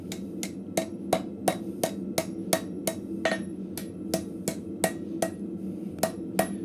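Hammer blows ring out at a steady, even pace as a scrap metal arrowhead socket is shaped at a blacksmith's forge, about a dozen sharp metallic strikes close by over a low background hum.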